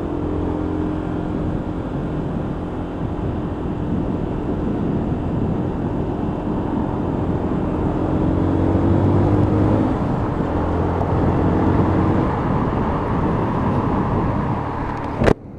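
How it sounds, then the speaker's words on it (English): A Lexmoto ISCA 125cc motorcycle engine hums steadily while riding, mixed with heavy wind rush, swelling slightly midway before settling back. "And a lovely purr from that 125 engine."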